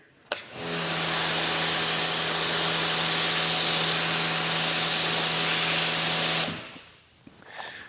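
An AR635 pressure washer sprays snow foam through a Rain Covo foam cannon: one loud, continuous hiss with a steady motor hum lasting about six seconds, starting and stopping abruptly, with no talking.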